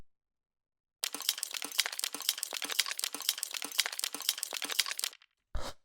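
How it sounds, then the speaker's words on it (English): Foley percussion made from live-recorded desk objects, a dense run of dry crinkly taps and clicks in a fast rhythm for about four seconds, then a short final hit after a pause. "then we have the Foley percussion, which sounds like this."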